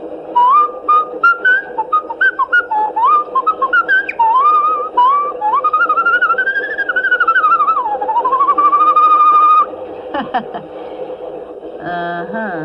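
Someone whistles "Yankee Doodle" as a lively, bouncing melody with quick note changes and a long sliding phrase, close by, followed by brief speech at the end.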